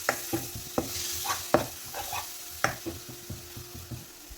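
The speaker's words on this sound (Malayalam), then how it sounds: "ഒന്ന് നല്ലതുപോലെ ഒന്ന് ഇളക്കി കൊടുക്കാം" Chickpea and coconut paste being stirred in a hot pan for a capsicum and potato masala curry, a run of irregular spatula scrapes and clacks over a low sizzle, close-up and without speech.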